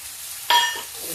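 Rice dropped into hot ghee, a sudden bright sizzle bursting in and then easing into a lighter crackle, close and brief.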